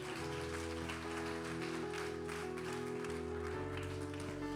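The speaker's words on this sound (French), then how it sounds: "J'aimerais entendre un grand amen et un applaudissement à notre Seigneur Jésus-Christ" Church congregation applause at a summer Sunday service in French patters like rain over sustained organ or keyboard chords, steady and moderately loud throughout, after a call to applaud Jesus Christ.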